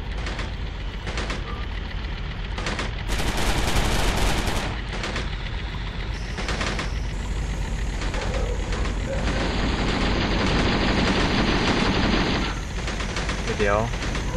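M60A1 tank gun and machine-gun fire in Steel Armor: Blaze of War, with heavy bursts and booms over a constant loud engine rumble, plus radio chatter and a voice talking throughout.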